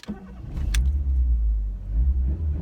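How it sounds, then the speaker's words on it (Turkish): The 1.6 SLX engine of a Fiat Tipo cranks with a brief key rattle and catches within a second, then settles into a steady, low, close idle rumble. "Aracımızı bir çalıştıralım bir sesini duyalım."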